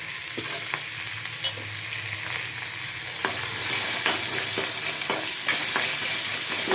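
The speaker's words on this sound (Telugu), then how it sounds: "ఆనియన్స్ వేగి వేగినట్టుగా ఉంటే బాగుంటుంది పోపు అన్నంలోకి" Finely chopped onions fry in a pan for tempered leftover rice, a steady close sizzle with repeated spatula scrapes and taps as they are stirred.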